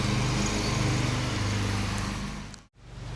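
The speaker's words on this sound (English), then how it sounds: "hear me over the lawnmower noise" A lawnmower engine runs close by at a steady, loud drone, cutting out briefly near the end before starting back up, with no talk over it.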